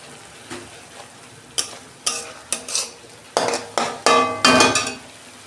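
Ground spices with a little water fry and are stirred in a pan for a home-style potato and prawn curry, giving a steady sizzle broken by repeated scraping and clinking strokes of a utensil against the pan.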